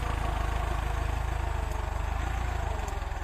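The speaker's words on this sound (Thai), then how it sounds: "วันนี้ก็ เอาใจแฟนๆ รถไถฟอร์ดครับ ที่ชอบรถใหญ่ๆ อย่างนี้ครับ" A Ford New Holland farm tractor engine idles steadily close by, a continuous low diesel rumble with a regular throbbing beat and no voices.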